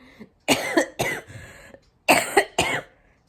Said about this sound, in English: that cough I was telling y'all about